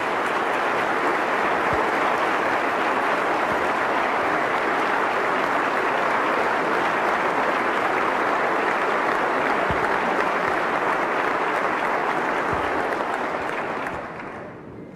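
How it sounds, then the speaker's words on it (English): Audience applause at West Virginia's State of the State address, a loud sustained burst of clapping from a large crowd that holds steady for about fourteen seconds before quickly fading. "if you could please give him a great round of applause"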